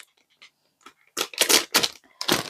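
A dog pants in quick, close bursts of rasping breath, several short loud exhalations in a row with no talk over them.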